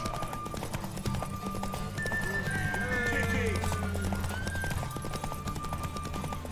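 Steady clip-clop of horse hooves with a whinny rising midway, over faint background music and ambient game sounds, in the video game The Witcher 3: Wild Hunt.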